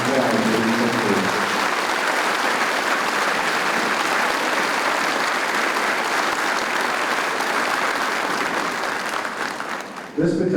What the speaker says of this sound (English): please join me in a round of applause for these soldiers